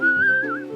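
A single clear whistle, held and then wavering, calls a dolphin in a cartoon, close and bright, lasting under a second.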